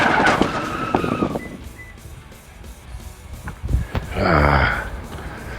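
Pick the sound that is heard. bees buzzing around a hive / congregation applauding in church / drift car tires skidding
drift car tires skidding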